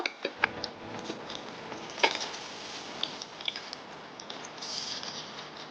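A spatula clicks and scrapes against a pan while flipping a protein-rich veggie pancake, giving sparse, quiet clinks and taps over a soft sizzle.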